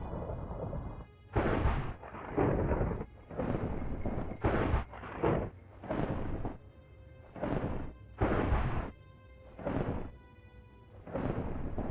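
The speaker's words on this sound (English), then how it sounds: "in typical Minecraft fashion, it decides to thunder and lightning for a very long time and do many, many strikes just when I don't need it" Repeated thunder and lightning strikes from a Minecraft storm roll in as about ten heavy, booming bursts, each a second or so long, separated by short lulls.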